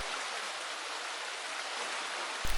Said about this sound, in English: I have only opened one of the gate paddles to allow water to pass gently through the lock